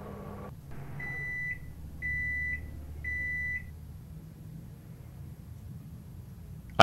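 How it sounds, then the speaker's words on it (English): Microwave running in the horror video game The Microwave Paradox: a low steady hum under three evenly spaced electronic beeps, followed by a quieter stretch of droning and a sharp click at the end. "We're officially microwaving."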